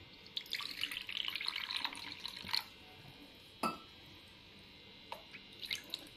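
Water poured into a tin holding sugar for a Mysore pak syrup, a bright splashing pour for about two seconds, then a few separate clinks and drips, close by with no talking.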